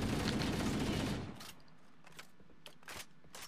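Weapon fire in the Halo video game: a loud sustained burst of rapid gunfire for about a second, then scattered fainter shots and impacts.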